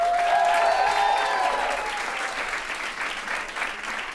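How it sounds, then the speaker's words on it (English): A live audience at a staged debate bursts into loud, sustained applause with a few whistles at the start. The clapping stays strong and close throughout, fading only slightly toward the end. "Those of you who think so, clap."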